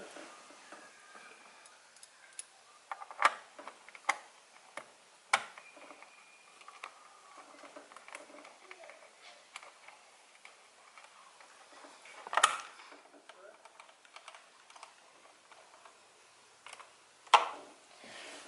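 Bolts being tightened while a Supra carbon fibre RZ steering wheel goes onto a 2JZ JZX100 Chaser: scattered sharp clicks and taps close by, irregular and fairly quiet, with louder knocks now and then and no talking.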